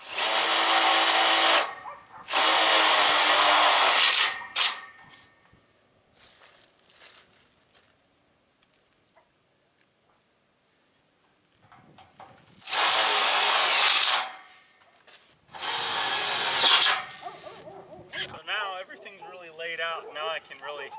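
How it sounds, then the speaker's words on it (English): A power drill drives screws into the metal plates at the ends of Versatube steel shop trusses during framing, with four loud, close whirring bursts of a second or two each, separated by quiet gaps and small handling noises. "I start screwing. Usually I'll do 2 screws in these plates on the ends."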